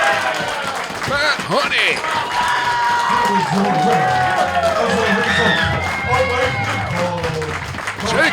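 A wrestling crowd cheers and applauds after the match, a loud roar with clapping throughout, while a commentator talks over it.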